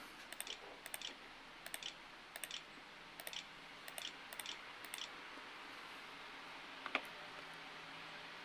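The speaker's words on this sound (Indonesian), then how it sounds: "Kita masukkan password menggunakan keyboard internal." Password typed on the internal keyboard of an HP 14S CF laptop with an Intel Celeron N4020 board: quiet, irregular bursts of key clicks, then one sharper click near the end.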